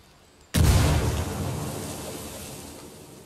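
Grenade explosion in the Ghost Recon Wildlands video game, a single loud sudden blast after a quiet moment, followed by a long rumbling, debris-filled decay that slowly fades.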